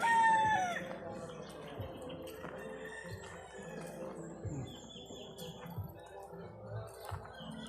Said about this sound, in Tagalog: Ay, daming manok.